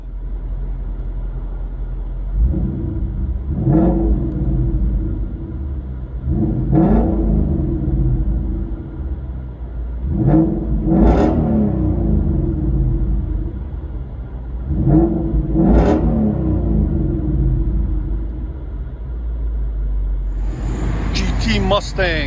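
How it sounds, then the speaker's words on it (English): A 2021 Ford Mustang GT 5.0L Coyote V8 with Corsa Extreme cat-back exhaust and X-pipe revs hard several times in bursts from inside the cabin, deep rumbling exhaust swelling and falling back to a steady idle. "The double X pipe makes a huge difference. You just hear straight exhaust,"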